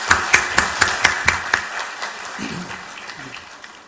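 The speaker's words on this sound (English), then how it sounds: "I'll request everybody in the hall to put up a round of applause for these students" A few distinct claps ring out in a hall at a higher education event, a sparse regular patter that fades within two seconds, followed by a voice beginning to speak.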